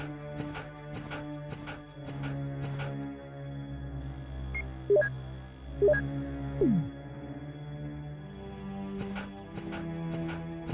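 Dogs in Resident Evil on the Sega Saturn, with low game ambience and a steady hum, brief snarls and a yelp near the middle, and sharp thuds at the start and end.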